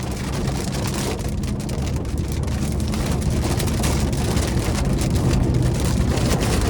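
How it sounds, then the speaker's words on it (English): Steady heavy rain pours down during a drive in a 2024 Toyota Corolla Hatchback SE, a dense continuous hiss with low rumbling underneath, loud and unbroken throughout. "Now it is starting to rain here"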